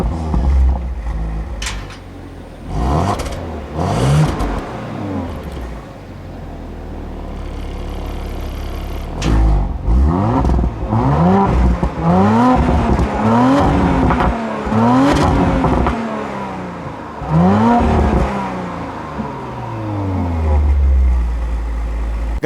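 A 2017 Audi RS5 coupé's 2.9-litre biturbo V6 with sport exhaust, revved repeatedly from idle in sharp rising blips that fall back between bursts, loud and close, with no speech.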